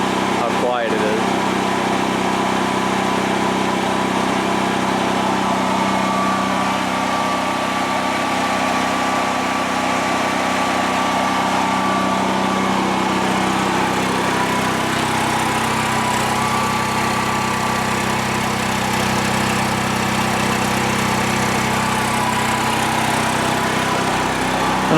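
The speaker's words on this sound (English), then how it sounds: "here's with the generator closed up, how quiet it is" A gasoline generator runs shut inside a DIY enclosure shed, giving a continuous, muffled engine drone that holds steady and loud for the whole stretch without stopping.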